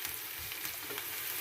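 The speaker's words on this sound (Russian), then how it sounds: "И сейчас луку зажарю." Chopped onion sizzles and fries steadily in a hot pan for a salad, a continuous close crackling hiss with faint stirring, no voices.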